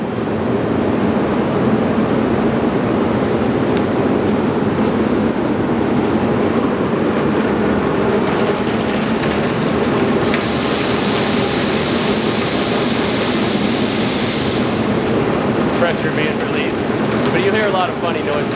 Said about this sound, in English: that's water turning the turbine